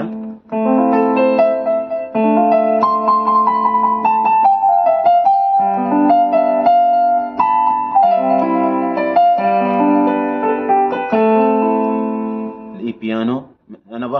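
Yamaha CK stage keyboard piano voice with delay effect: a phrase with echoing repeats trailing each note, chords ringing on for several seconds, ending in a brief warbling flourish.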